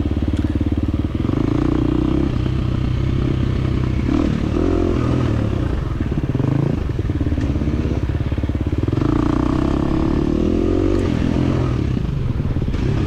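A 2023 KTM 350 XC-F dirt bike races through a wooded hare scramble, its engine droning loud and close throughout with constant revving, rising and falling with throttle amid clatter from the rough trail.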